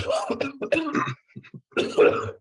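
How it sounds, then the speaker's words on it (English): Several harsh, close coughs and throat-clearing bursts, loud and uneven, with a short pause before a final heavy cough. "I'm just coughing my lungs up"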